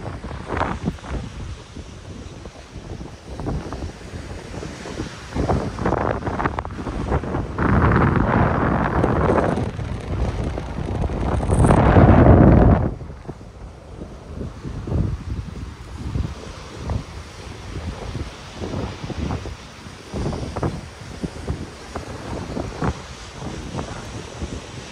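Strong gusting wind buffets the microphone over a roar of storm-driven sea waves on a seafront embankment in Adler, swelling into a loud surge midway before easing back.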